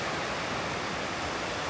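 Steady rushing wash of Lake Superior water beside a shoreline trail at Pictured Rocks National Lakeshore, near and continuous, an unbroken surf-like hiss without voices.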